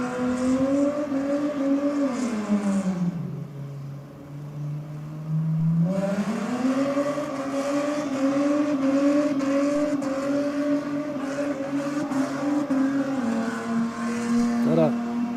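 A no prep drag race car launches down the track at an Australian racing event, its engine roaring loud and close with rising harmonics that dip briefly and then climb again as it pulls away.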